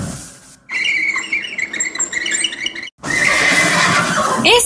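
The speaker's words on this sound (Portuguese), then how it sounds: "Um cavalo!" A horse neighs in a long, high, quavering whinny, loud and close, followed after a brief silence by a second burst of whinnying and snorting, with no talking.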